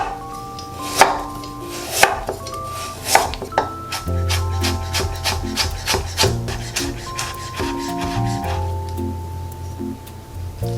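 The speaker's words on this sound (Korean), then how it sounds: "곱게 채를 썰어주세요." A knife finely julienning carrot on a cutting board makes a few spaced heavy thunks at first, then settles into rapid, even tapping close by. A soft background tone plays underneath.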